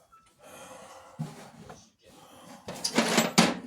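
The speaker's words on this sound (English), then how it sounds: "Now, I know that this drawer has issues." A drawer in a workshop is yanked open and shut in several rough wooden scrapes and thumps, growing louder toward the end, up close with no talking.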